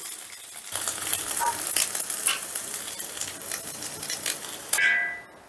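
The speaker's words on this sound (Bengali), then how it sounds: "ডিমটাকে আমি হালকা করে ভেজে নিয়েছি" Eggs frying lightly in hot oil in a pan for mixed fried rice give a close, continuous crackling sizzle with some clinking, then fade and cut off near the end, with no one speaking.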